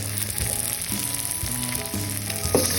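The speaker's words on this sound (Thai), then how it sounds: "ผัดไปเรื่อยๆเรื่อยๆนะ" Noodles stir-fry in oil in a pan, a loud, constant close sizzle with rhythmic scraping and tossing strokes.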